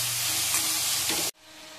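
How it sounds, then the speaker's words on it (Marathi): Salted mixed vegetables for Chinese-style veg momos stir-fry over high heat, giving a loud, steady sizzle that stops abruptly after about a second, leaving a quiet background. "फक्त भाज्या या 2 ते 3 मिनिटांपर्यंत फक्त परतून घ्यायच्या आपल्या"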